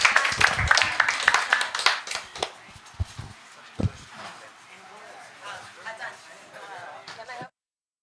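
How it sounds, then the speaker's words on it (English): Scattered clapping from a small group at an art exhibition opening reception, irregular claps that thin out and stop abruptly, with voices talking over them. "Applause again to everyone"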